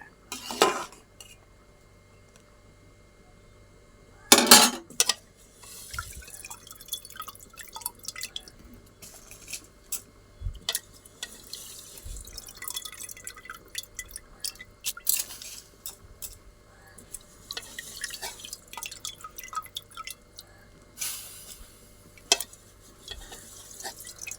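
Rice simmering in milk in a pot, stirred now and then to keep it from sticking: soft drips, scrapes and clinks of a spoon against the pot, with a few louder knocks, close and fairly quiet with no talking.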